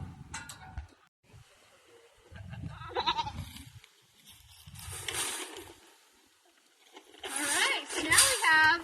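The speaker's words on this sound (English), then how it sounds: "They have 2 other goats up ahead, so we're going to go feed them" Goats on a farm bleat in several loud, wavering calls, close by, with pauses between them and people talking in between.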